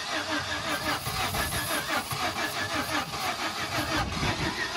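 Jeep Grand Cherokee engine turning over with fuel poured into the intake, a steady broadband churning roar from close by that keeps running with a rough, sputtering texture throughout; voices are faintly present underneath.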